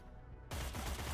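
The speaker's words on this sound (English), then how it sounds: "I'm pretty sure I can take this shot full auto" Full-auto gunfire from the Cyber Knights: Flashpoint tactics game erupts suddenly after a brief quiet moment, a loud, dense burst of rapid shots that continues to the end.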